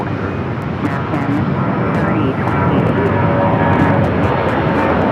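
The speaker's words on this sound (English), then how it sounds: "runway 7 left, cleared for takeoff" American Airlines jet rolling for takeoff from runway 7 left at Phoenix Sky Harbor, a continuous loud engine roar that builds slightly, with radio talk heard over it.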